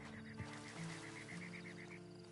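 A horse whinnies in the Red Dead Online game, a single faint, wavering call lasting about two seconds over low game ambience.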